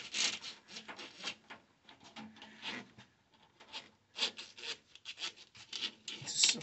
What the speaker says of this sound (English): Just feeding this down into the alternator.